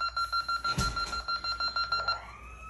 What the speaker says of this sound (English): The siren hasn't operated in a while, so that's why it did steady for a second